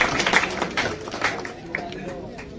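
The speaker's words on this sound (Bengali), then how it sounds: "একটা হাততালি।" A small group claps for a student's Madhyamik exam result at a school: brief, close, uneven hand claps patter for a couple of seconds while voices talk over them.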